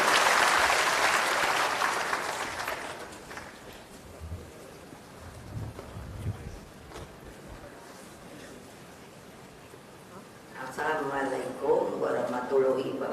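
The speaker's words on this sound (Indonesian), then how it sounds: "kami haturkan tepuk tangan yang meriah buat beliau" Applause at a PDIP national working meeting as the party chairwoman, Megawati, is welcomed to speak: a loud burst of clapping from a large audience that fades over a few seconds, followed by quieter hall noise and then a voice speaking.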